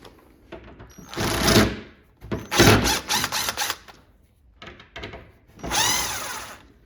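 A small flathead screwdriver prying and scraping at a door latch on a Q*bert arcade cabinet, in several short bursts of close metallic scratching and rattling separated by brief pauses.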